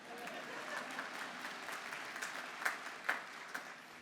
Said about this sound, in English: Applause for MASH.